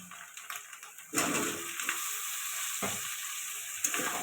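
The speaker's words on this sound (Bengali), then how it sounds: "আলুটা ভালো করে কষাবো" Potatoes frying with spices and ginger-garlic paste in a pan for a soybean and cauliflower curry, a steady close sizzle broken by scraping stirs, with a louder burst after the first second.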